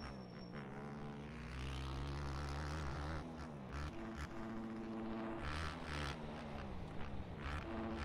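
Dirt bike engine droning steadily in too high a gear in the motocross racing game MX Bikes, a continuous loud buzzing hum with shifting pitch and no speech over it.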